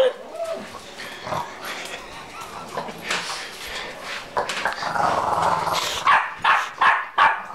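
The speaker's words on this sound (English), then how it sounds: "Oh, now he barks." Boston Terrier barking and growling indoors, soft mellow barks in a short cluster toward the end, with people talking quietly around it.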